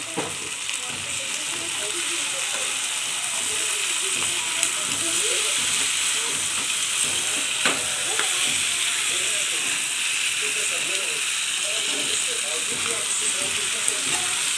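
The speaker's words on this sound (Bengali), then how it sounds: "আমি 20-20 মিনিট ভাজছি সুন্দর করে।" Broiler chicken pieces and legs frying in a pan with garam masala, a steady close hiss and sizzle with occasional pops and crackles running throughout.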